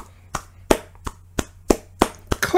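Several sharp handclaps spaced apart in a slow, uneven rhythm, close and fairly loud, with no talking.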